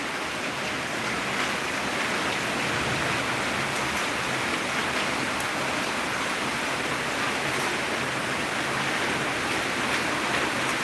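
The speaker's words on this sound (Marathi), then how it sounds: "पब्लिक देखो बारिश कितनी बड़ी बारिश आ रही है बदलापुर में" Heavy monsoon rain pours down in Badlapur as a dense, steady roar of water that stays unbroken and evenly loud throughout, with no voices.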